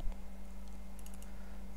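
Quick keystrokes on a computer keyboard while Visual Basic code is entered, a short cluster of light clicks over a steady low hum, fairly quiet and close with no speech.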